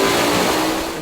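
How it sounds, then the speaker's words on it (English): Maserati engine in a SuperLite SL-C kit car on a dyno, revving hard with a rising high-pitched snarl that stays loud and close for the full second. "hear this nice sound engine, because this Maserati engine is amazing how good they sound"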